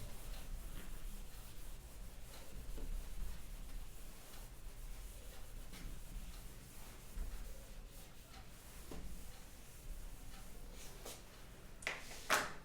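Chalk or marker writing being rubbed off a classroom board for a physics lesson, a steady scratchy wiping sound running throughout, close and fairly quiet, with no talking.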